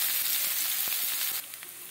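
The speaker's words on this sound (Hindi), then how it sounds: "अब इन सबको अच्छी तरह से मिलाते हुए 1 मिनट के लिए फ्राई होने दें।" Finely chopped onion with a pinch of asafoetida frying in a pan for a cauliflower kachori filling, a bright steady sizzle with a few soft stirring knocks, close and alone.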